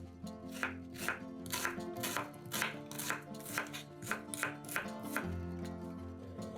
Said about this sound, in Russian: Одну луковицу тоже нарезаем кубиками.